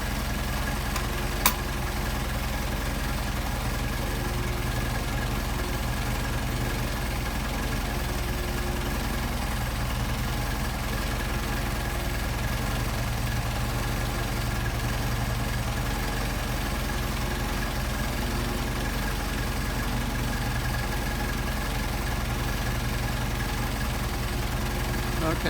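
Steady idle of a Mercedes 190SL engine fitted with Solex 44PHH carburetors, a continuous low rumble held close and even throughout, with a brief click near the start.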